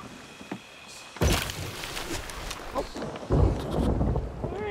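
A thunderstorm at sea in Sea of Thieves: sudden loud thunder cracks and rumbles break over a steady wash of rain and wind noise.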